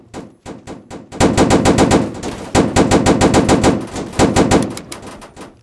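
Rapid automatic gunfire in a Roblox warzone game, long loud bursts of machine-gun shots with short gaps between them, close and intense, with no talk over it.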